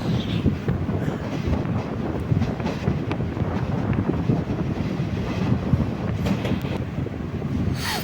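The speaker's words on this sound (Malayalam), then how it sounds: "പമ്പരപ്പുഴ സ്റ്റേഷനിൽ നിന്ന് നമ്മുടെ ട്രെയിൻ എടുത്തിരിക്കുകയാണ്" A passenger train rolls steadily along the rails departing Ambalappuzha station toward Alappuzha, Kerala, with a continuous rumble and clatter, mixed with wind noise on the microphone.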